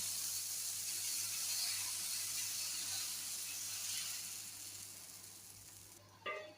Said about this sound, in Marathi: आता आपण धिरडे घालूया.